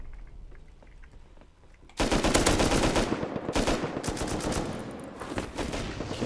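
Loud, dense bursts of automatic gunfire erupt after a quiet start during an online base raid in the survival game Rust, with rapid shots continuing close by to the end.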